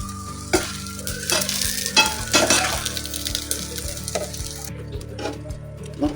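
Soybean being stirred into a pot of mandi rice, with a steady sizzle and repeated scraping stirs of the spoon against the pot, close and fairly loud, with no talking.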